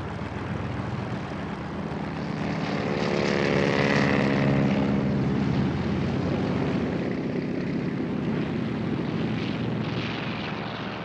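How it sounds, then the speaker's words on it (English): Propeller aircraft of a Japanese carrier attack force taking off at dawn from carriers at sea north of Oahu, a steady loud engine drone and roar that swells toward the middle and carries on throughout. "the Japanese first attack force of 183 aircraft began taking off"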